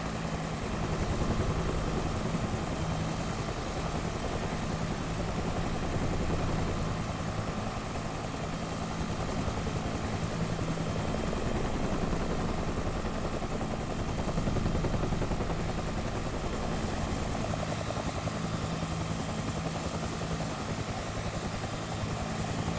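A video game helicopter's rotor and engine drone steadily and loudly with a low, even whirr and no pauses throughout.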